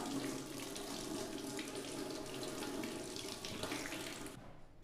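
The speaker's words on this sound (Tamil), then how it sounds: "மறுபடியும் ஒரு தடவை நம்ம அதை வாஷ் பண்ணிக்கலாம் நல்லா" Tap water runs steadily and close while an aloe vera leaf is washed in a sink, a continuous splashing rush that cuts off abruptly just before the end.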